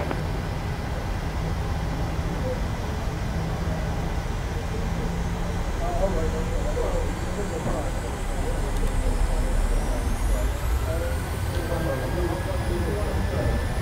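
A Boeing 737-700's jet engines spool up to takeoff thrust in a flight simulator as a steady broadband roar, with a rising whine sweeping upward toward the end and faint talk from pilots and controllers in the background.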